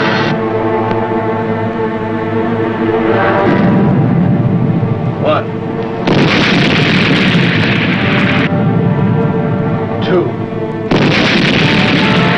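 Torpedo hits on ships in a World War II submarine setting, heard as a series of heavy, loud booming explosions that roll and overlap, each burst swelling into a long rumbling roar.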